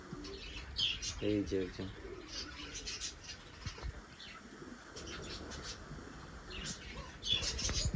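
Kokka pigeons in a loft, soft cooing calls and a few chirps at low volume, mixed with someone talking nearby and some faint rustling.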